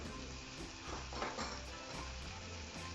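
Tomato sauce hits a pan of nearly cooked kefta and sizzles steadily at close range, with a soft clink or two of a utensil against the pan.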